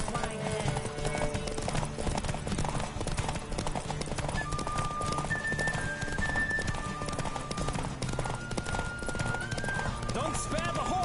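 Horse hooves galloping in The Witcher 3, a steady rapid clip-clop running throughout beneath game music and a character's shouting, with a brief whinny standing out.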